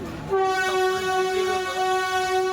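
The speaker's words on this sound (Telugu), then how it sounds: "ఈ ట్రైన్ చూడండి ఫ్రెండ్స్" A train horn blares loud and close at Vijayawada junction, holding one steady tone for a couple of seconds over low rumbling rail noise.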